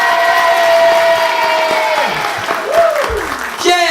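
Studio audience at a French Christmas variety show claps and cheers for about four seconds while a musical chord and a sliding whoosh effect play over the crowd.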